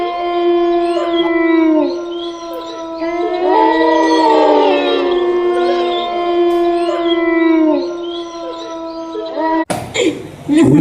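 Dogs howl in long, wavering drawn-out tones that rise and fall, loud and close, for about ten seconds, ending in a brief burst of other noise.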